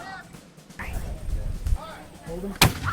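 A single sharp, loud cannon blast booms near the end at a Revolutionary War reenactment battle, preceded by people talking and a few smaller knocks.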